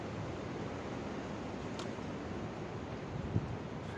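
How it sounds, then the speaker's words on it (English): Steady outdoor wind rushes against the microphone as a constant broadband roar, with no voices over it. "Here comes some wind."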